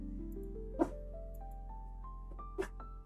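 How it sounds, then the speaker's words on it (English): Two faint, brief dog barks sound in the distance over a quiet background hum with tonal music, spaced a couple of seconds apart. "my dog keeps barking"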